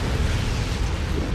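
A base being destroyed in a real-time strategy game sends out a loud, sustained low rumble of explosions, steady and dense with no talk over it.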